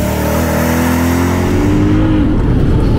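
A modified BMW M3 E92 V8 with an Akrapovic exhaust and Eventuri intake revs hard and close, its pitch climbing steadily before it eases off into a rougher, lower drone.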